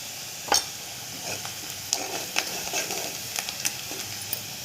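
Onion frying in a pan as red chilli powder is stirred in, a close sizzle with repeated scraping stir strokes and light clicks of the spoon against the pan.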